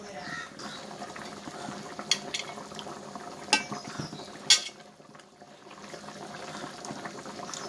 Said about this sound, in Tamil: நகர மீன் குழம்பு கொதிச்சிட்டு இருக்கு.